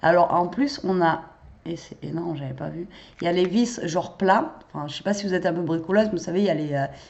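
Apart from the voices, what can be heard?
None of the usual background noises is heard.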